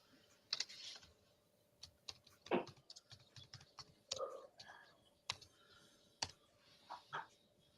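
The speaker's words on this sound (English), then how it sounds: "it's a fucking wireless keyboard" Keys on a wireless computer keyboard click sparsely and fairly close, in short irregular bursts, with soft low voices in the background.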